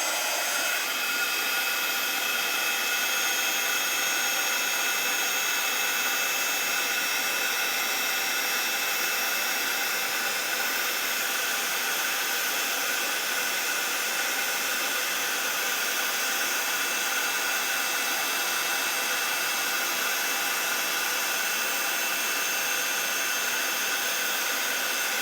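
Heat tool blowing steadily to melt embossing powder on a handmade card, a constant close hairdryer-like whoosh with no pauses.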